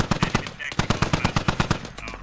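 Rapid bursts of automatic gunfire from a US flanking squad in the SquadOps shooter game, loud and close, with about a dozen sharp evenly spaced shots cracking in quick succession and no talk over them.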